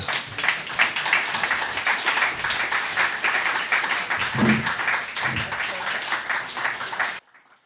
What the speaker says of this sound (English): Can we give our storytellers another round of applause?